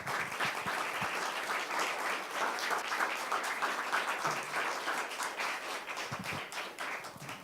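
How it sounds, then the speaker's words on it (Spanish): An audience at a thesis defense applauds the technical team with continuous, even clapping that sounds somewhat distant and soft and lasts throughout. "le pido un aplauso para el equipo técnico"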